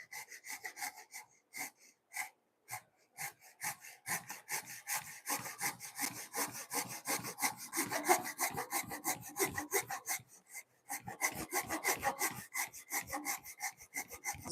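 A hand saw cuts a wooden corner brace diagonal to the grain, with rhythmic rasping back-and-forth strokes, close and steady, broken by a couple of short pauses.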